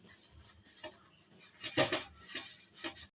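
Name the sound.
greasing a cake mould with oil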